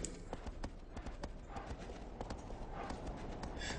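Horse hooves clip-clop at a steady walking rhythm in the Shadow of the Colossus video game, close and fairly loud, with a constant game ambience running beneath the footfalls.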